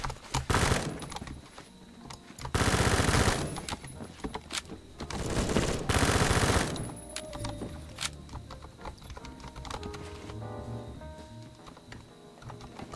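Three loud bursts of rapid automatic K1A rifle fire from the Phantom Forces shooter game, separated by quieter stretches of clicking and faint in-game noise, with no voices.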